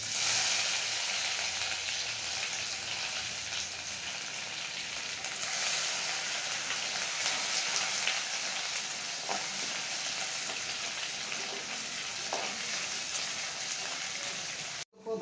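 Cumin, crushed garlic and ginger frying in hot oil for a ridge gourd dish, a loud, dense, continuous sizzle like heavy rain that holds steady throughout before cutting off abruptly at the end.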